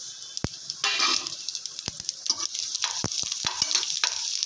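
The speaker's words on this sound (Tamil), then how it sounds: "சோம்பு இதெல்லாம் நல்லா பொரிஞ்சிருச்சு" Fennel, cinnamon and cloves splutter in hot sesame oil for an offal gravy: a steady, close crackling sizzle with sharp pops and a few hard clicks of a spoon stirring the pan.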